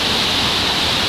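A waterfall in the mountains of Kintrishi National Park in Adjara pours steadily, a loud, unbroken broadband rush with no voices over it.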